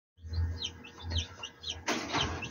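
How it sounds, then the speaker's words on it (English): Chickens chirp indoors in a rapid series of short, close tweets, followed by a louder, broader burst of rustling or flapping near the end. "I'm trying to read and the chickens keep chirping"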